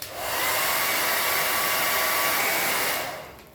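A heat gun blows steadily on vinyl wrap film being warmed over interior trim, a close, loud, continuous broadband whoosh with a faint whine, running about three seconds before cutting off.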